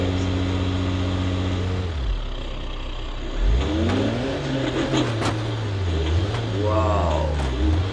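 Video game car engine revving and droning as the vehicle bounces over bumps, pitch rising and falling with each jolt, with loud talk over it throughout.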